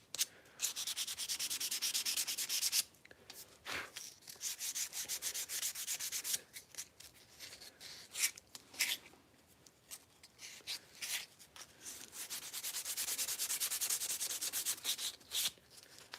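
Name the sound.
sanding a custom knife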